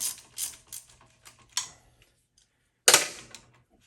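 Ratchet working a 19 mm bolt loose on a Honda SL70 motorcycle: a few quick clicking bursts close by, then a sharper louder crack as the bolt breaks free, followed by brief clicks.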